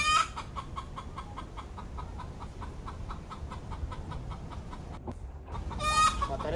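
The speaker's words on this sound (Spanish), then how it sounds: "escuchó el canto de una gallina" A hen clucks repeatedly in a steady rhythmic series of short calls, fairly faint and a little distant, ending in a louder burst of cackling near the close.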